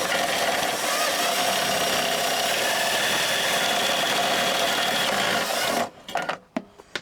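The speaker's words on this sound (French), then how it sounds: "Et on perce." A power drill bores through a spacer while a SW-Motech SysBag luggage mount is fitted to a Honda Transalp 750, a close, steady grinding whir lasting about six seconds before stopping with a few clicks.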